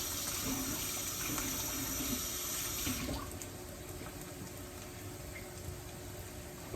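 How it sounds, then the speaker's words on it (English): A kitchen tap runs as hands are washed beneath it, a steady splashing hiss for about three seconds before the flow softens to a quieter trickle. "I'll wash my hands."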